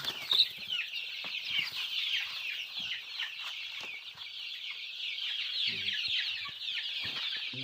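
A continuous chorus of high-pitched peeping and soft clucking from a crowd of 35-day-old chicks on a farm, close by, with occasional faint rustling.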